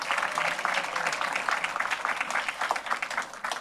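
An audience applauds the newly introduced Mayor of San Antonio, Gina Ortiz Jones, at an evening symposium: steady, dense clapping from many hands fills the room throughout, with a faint murmur of voices underneath.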